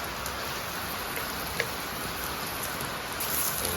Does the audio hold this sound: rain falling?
yes